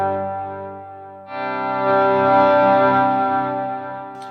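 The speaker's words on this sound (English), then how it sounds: "another tool to keep in your tool belt of electric guitar playing are swells" An electric guitar swells in with a sustained, effects-laden chord that blooms gradually from near silence after a soft opening note, then holds and fades out slowly over a chorus-and-echo wash.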